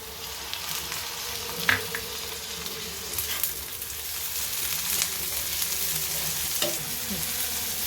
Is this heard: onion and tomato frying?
yes